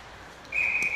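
A referee's whistle at a U16 ringette game blows one sharp, shrill blast lasting about half a second, clear above the faint rink noise of an ice arena.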